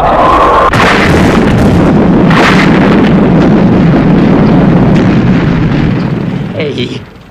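Missiles are fired to blast debris clear of a nose cone, filling the scene with loud, continuous rumbling explosions and bursts that fade away near the end.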